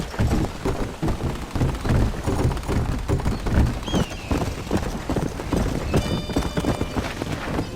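Horse hooves clip-clop in a steady, busy rhythm as a rider travels out of Mexico in Red Dead Redemption, with faint whistle-like tones drifting above the hoofbeats and no talking.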